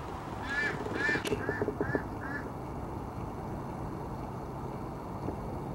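Ducks kept at an allotment quack in a short run of five or six calls, fairly close and clear over a quiet outdoor background, then fall silent.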